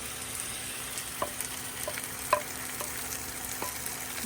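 Lamb stew with tomatoes sizzles steadily on a sac griddle outdoors in a garden, with occasional stirring clinks and pops close by and no talking.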